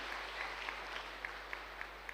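Faint audience applause at a speech event, a thin patter of scattered claps with a few sharper individual claps, distant and low in level, without any voices.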